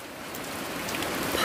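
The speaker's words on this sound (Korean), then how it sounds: "밤새 비가 너무 많이 오는데." Heavy rain falls steadily in a dense, hissing wash that builds slightly louder toward the end, with no voices over it.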